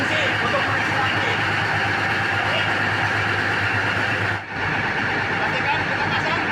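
A 500 kVA diesel generator engine runs with a loud, steady mechanical drone and a brief dip partway through, while a voice talks over it.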